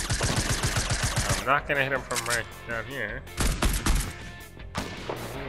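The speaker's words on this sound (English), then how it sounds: "We got some pretty intense gunfire going on up there." Rapid bursts of gunfire ring out in the video game Fortnite, dense and loud at first and then in shorter volleys, mixed with someone talking over the action.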